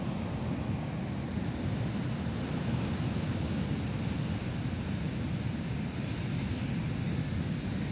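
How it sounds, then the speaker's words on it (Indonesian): Large ocean waves at Ngudel beach in southern Malang make a continuous heavy roar of surf, with deep rumbling and wind buffeting the microphone, steady and fairly loud throughout with no voices. "Ngeri. Ombaknya sangat besar."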